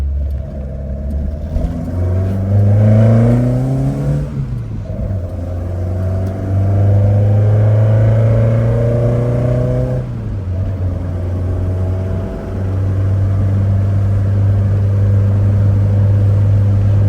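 A 1972 Ford Escort Mexico is driven, its engine revving up through the gears with rising pitch, dropping at each shift, then pulling again; loud, close and steady, with no talking.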